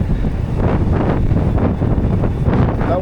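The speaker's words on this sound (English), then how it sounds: "A lot windier than I was expecting it to be." Strong gusting wind buffets the microphone during an e-mountain bike ride through forest trails at Maghera in the Slieve Croob area, a loud continuous low roar with surging gusts and no voices.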